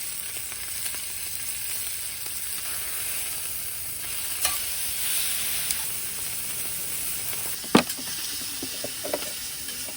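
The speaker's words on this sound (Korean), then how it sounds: "튀기네. 튀기네." Food frying in a pan at a summer campsite, a steady close sizzle and hiss running throughout with a few sharp crackles and pops near the end.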